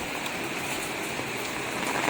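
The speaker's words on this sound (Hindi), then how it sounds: "ये देखो बाप रे बहुत तेज़ बारिश है और नॉन स्टॉप बारिश है" Heavy monsoon rain pours down steadily in Dehradun, Uttarakhand, a dense, continuous hiss of water striking surfaces nearby, with no voices.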